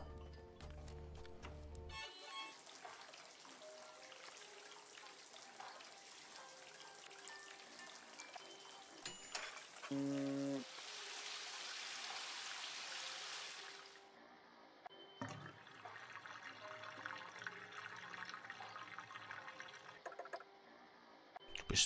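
Rain falling around a house in the video game Botanicula, a steady hissing wash of water sound that fills most of the scene, with brief game tones and a shift in texture partway through.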